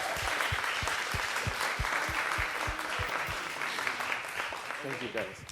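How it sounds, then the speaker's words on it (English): Audience applause for a guest at a hackers and hacktivists panel event, a steady round of clapping with some sharp nearby claps, fading slightly toward the end. "Let's just give him one more round of applause."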